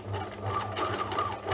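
A sewing machine stitches through fabric in a fast, steady mechanical chatter, close and moderately loud, running alone without speech.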